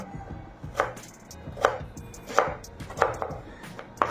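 Fresh amla (Indian gooseberries) chopped with a knife on a board, five distinct chops spaced roughly evenly at a steady, unhurried pace, close and clear with no talking.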